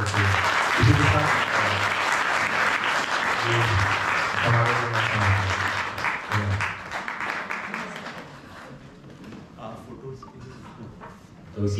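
Audience applause at a 2023 prize distribution ceremony: loud, dense clapping for about eight seconds with a voice speaking over it, then thinning out to scattered claps and quieter room sound.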